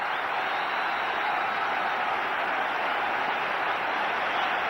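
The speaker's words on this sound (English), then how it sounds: "And the crowd very appreciative" A cricket crowd applauds Mohammad Azharuddin's innings, a steady, even roar of clapping from a large stadium audience, holding at one level throughout with no pauses.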